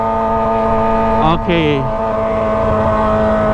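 Kawasaki ZX25R motorcycle fitted with a Toce exhaust, a steady high-pitched engine drone running through the whole stretch with a brief dip and shift midway, loud and close, with a short spoken word over it.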